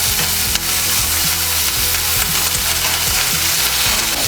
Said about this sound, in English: I'm going to add my halloumi to it now. Turn my halloumi over.